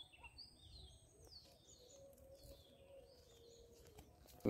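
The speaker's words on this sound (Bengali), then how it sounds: "জঙ্গলের ভিতরে ডাক পাখির ডাক শোনা যাচ্ছে।" Faint bird calls and chirps drift through a quiet jungle at a distance, thin and scattered over low background hum, ending in a sudden louder burst.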